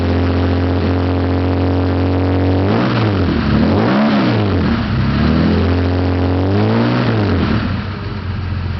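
A built Ford 300 inline six in a four-wheel-drive truck with a ZF 5-speed, warming up on a choke: a loud, steady idle broken by two rising-and-falling revs in the middle, with no talking.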